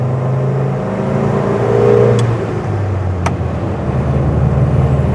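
An older car accelerates with the throttle pressed to the floor, its engine a loud, close, steady drone that swells briefly before settling back, heard alone.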